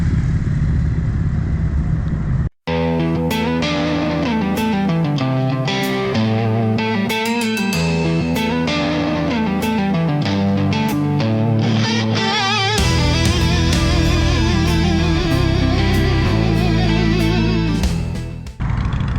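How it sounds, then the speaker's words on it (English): Indian motorcycles pass on a demo ride as riders gather for a parade at Lipno, a loud, steady engine roar that holds for nearly the whole stretch, with a brief drop near the start, and no talking. "that's just a demo ride going past now"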